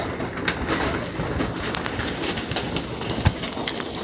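Pigeons or doves in a backyard aviary give soft, repeated cooing under a steady wash of outdoor noise, with occasional brief flutters and knocks, close by and alone without talk.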